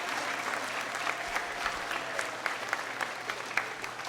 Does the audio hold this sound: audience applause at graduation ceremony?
yes